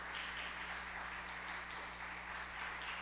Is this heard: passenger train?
no